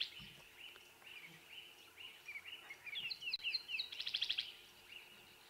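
A tawny-flanked prinia at a dam in an African safari reserve at sunrise gives a series of thin, high chirps and a quick buzzy trill, faint and fairly distant over quiet background hiss.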